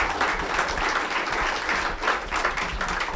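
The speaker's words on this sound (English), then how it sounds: "We can applaud for that." An audience breaks into steady, dense applause after a keynote speech, many hands clapping at once at moderate volume throughout.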